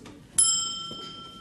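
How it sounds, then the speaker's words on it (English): A single bright bell ding rings out on a 1970s TV panel game show, a sharp strike followed by a sustained ringing tone that slowly fades, with faint studio murmur underneath. "I ring the bell"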